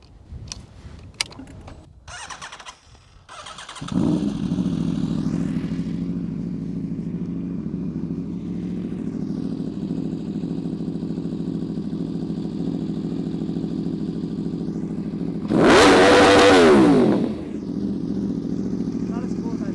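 An engine starts up after a few clicks and knocks, settles into a steady idle, and then revs hard for about two seconds near redline before falling back to idle.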